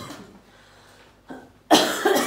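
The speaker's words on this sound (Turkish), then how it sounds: "Kötü öksürüyorum." A woman coughs harshly while sick, with one short cough followed by a louder burst of close, rough coughing indoors at home.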